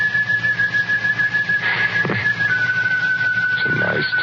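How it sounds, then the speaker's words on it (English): A person whistles a slow, sustained melody, the clear tone holding and sliding gently between notes over a faint background hum. "Like somebody whistling it."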